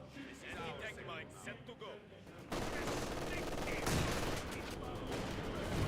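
Machine gun fire and other gunfire in the video game Company of Heroes 2, a Vickers gun firing in sustained rattling bursts amid battle noise, heard beneath a commentator talking throughout.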